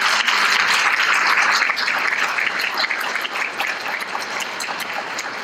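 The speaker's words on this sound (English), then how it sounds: "Let's give them all a round of applause." An audience at a United Nations Association members' day conference gives a sustained round of applause, dense and even throughout with no talk over it.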